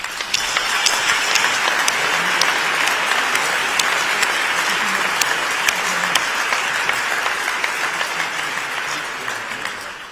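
Sustained audience applause at the World Health Summit opening in Berlin, a dense, even wash of many hands clapping in a large hall, loud and continuous before tapering off at the end.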